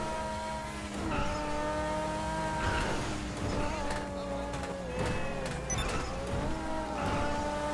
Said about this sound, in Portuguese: escutem o barulho. Ou melhor, o ronco do motor desse carro.